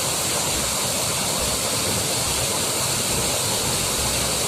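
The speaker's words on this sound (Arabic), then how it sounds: "كتسمعوا الصوت تاع الماء غالب على كل شيء" A waterfall roars with rushing water in a steady, loud, close wash of noise that never lets up, and no voices are heard.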